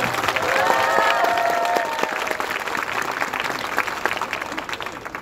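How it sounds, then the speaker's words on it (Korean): A concert audience at an outdoor show in Ulsan claps loudly and steadily, the applause peaking early and then thinning slightly as it continues, with a few voices underneath. "다시 한번 큰 박수 부탁드리겠습니다."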